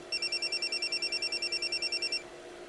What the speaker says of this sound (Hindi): ये देख, कार डिलीवरी के लिए ऑनर का ही फोन आ रहा है।